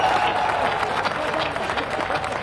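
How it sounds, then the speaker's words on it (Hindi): A crowd at an event in Sikar claps in sustained applause, a dense wash of hand claps that stays steady throughout, with a voice faintly mixed in. "तालियां बजाइए एक बार ज्यादा।"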